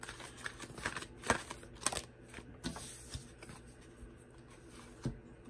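Tarot cards are shuffled in a spread reading, giving crisp riffling flicks and snaps with a few sharper slaps, close and alone without talk.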